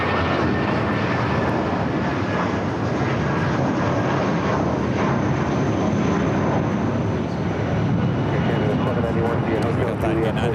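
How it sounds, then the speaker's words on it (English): A United Boeing 787 Dreamliner bound for Newark rolls down runway 25 Right at LAX, its engines a loud, continuous broadband roar that holds steady across the clip, with faint radio chatter underneath. "We got that United Dreamliner heading to Newark, now rolling down the 25 right"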